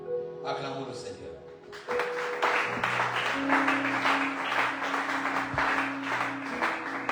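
A church congregation applauds together during a sermon on communication in marriage, a loud, sustained wash of clapping that swells in after a brief moment of talk and carries on steadily to the end.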